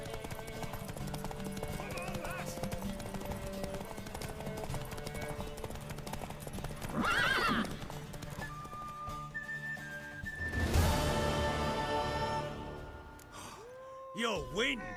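Horse hooves clip-clopping with a brief neigh in The Witcher 3, set among game music and voices, with a whistle-like flourish near the end.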